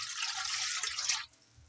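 Water pours briefly and steadily into a pot of soaked rice being set to boil for kheer, a close bright splash that stops abruptly after about a second.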